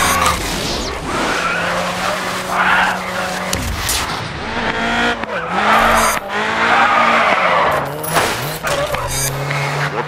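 A car drifting in the racing game GRID 2 with the handbrake locking the rear wheels, loud continuous tire squeal and skidding over a revving engine that rises and falls through the slide.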